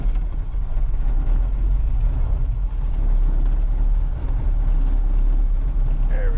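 A car engine idles steadily on a cold morning, a low continuous rumble holding close and loud throughout, with a brief faint chirp near the end.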